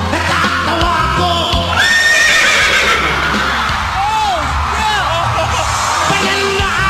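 A person sings in imitation of a horse's neigh, with wavering whinny-like cries rising and falling over a loud, busy background of other voices and noise.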